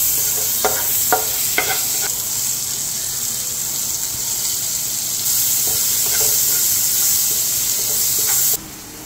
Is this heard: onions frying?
yes